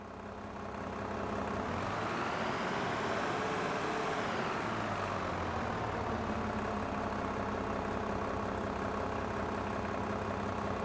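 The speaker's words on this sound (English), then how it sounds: "How do I change gears on this bloody tractor now then?" A damaged tractor engine runs continuously in a farming simulator game, a steady loud mechanical drone that rises in pitch and then settles back to a low, even idle.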